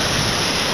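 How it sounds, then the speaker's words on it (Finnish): Sea waves roar steadily onto the shore just south of Wollongong, Australia, a continuous broad rush that is loud and close, with no voices. "Sen verran kutsuvasti nuo aallot tuolla kohisevat"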